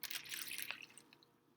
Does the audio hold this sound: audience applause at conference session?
no